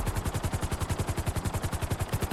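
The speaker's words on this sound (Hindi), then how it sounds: "मुझे पटाखों की आवाजें आ रही है" A rapid, evenly spaced string of firecracker bangs set off for Diwali in GTA 5, loud and close, popping like a machine gun from start to finish with nothing else heard.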